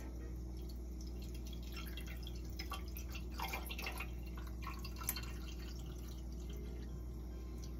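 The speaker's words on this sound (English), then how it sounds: "I'm just going to pour this into my glass." Malibu pineapple cocktail trickles into a glass in a soft, uneven run of small liquid splashes and drips over a low steady hum, fairly quiet and close, with no speech.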